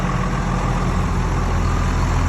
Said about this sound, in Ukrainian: Двигун працює без зауважень.